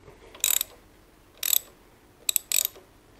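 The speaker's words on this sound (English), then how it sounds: "next we're loosening the upper fork mount pinch bolts on each side" Ratchet wrench loosening the upper fork mount pinch bolts on a Harley-Davidson Pan America motorcycle: three or four short bursts of rapid clicking, close and fairly loud, separated by brief quiet gaps.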